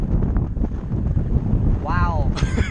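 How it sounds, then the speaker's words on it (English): Steady wind buffeting the microphone in a loud, continuous rumble, with people talking over it throughout. "Oh, it is very windy."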